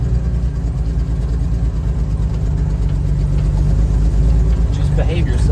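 The engine of a 1965 Ford Econoline truck idles at a show, a steady low rumble that stays loud and even throughout.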